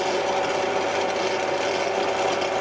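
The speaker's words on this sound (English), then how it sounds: "Enough drilling." Wood being drilled on a woodlathe with a geared headstock gives a steady, dense grinding rasp that runs unbroken for a few seconds, then cuts off abruptly.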